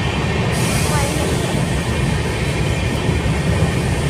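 A moving train heard from inside a carriage: a loud, steady rumble of wheels on rails with faint high squeals, continuous for four seconds.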